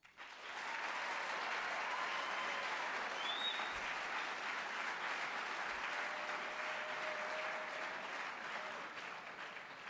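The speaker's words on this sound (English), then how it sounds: "would you please applaud?" A large audience at the Chicago/Midwest Emmy Awards ceremony applauds in a long, steady, even wash of clapping that fills the hall.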